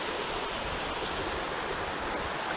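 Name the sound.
rushing stream water on the Mt. Colden Trap Dike hike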